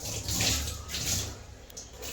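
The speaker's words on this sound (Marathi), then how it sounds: "हा ओला करून घ्यायचा पाण्याने" Water splashing and trickling onto a clean cotton towel being soaked in a kitchen, two short gurgling pours that rise and fade, close and fairly loud, with no talking.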